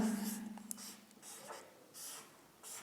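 Chalk or marker scrapes across a board in short intermittent strokes, faint and close, with a brief hum at the start and no clear talk over it.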